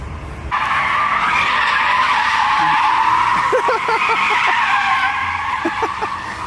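Loud, sustained tire screeching from a car drifting at an abandoned warehouse, with an engine revving beneath and brief voice-like blips in the background.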